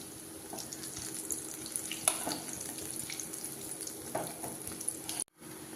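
Egg pakkavada snacks frying in hot oil, a steady close bubbling sizzle with scattered crackles throughout, ending in a brief drop.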